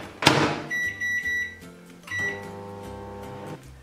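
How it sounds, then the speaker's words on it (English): A kitchen microwave oven heats rice malt syrup and coconut oil, opening with a clunk of its door, then a series of electronic beeps and a steady hum, the tones stepping in and out close to the listener. "you're just gonna heat that in the microwave until it's all like melted together"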